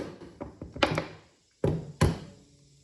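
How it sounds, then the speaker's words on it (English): A staple gun set to its highest depth driving staples into an oak board: a handful of sharp, close thuds and clacks at uneven intervals, the last two loud and isolated against near silence. "Now let's turn it up as high as it'll go and staple it."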